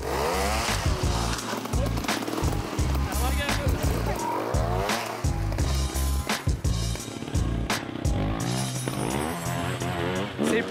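Trial motorcycle engines rev and sputter in uneven bursts, revving hard then dropping, with people talking over the noise throughout.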